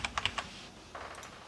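Computer keyboard typing code for binary serialization in Unity: a quick burst of four or five close, crisp key clicks, then a second softer flurry of keystrokes a moment later, with no talk.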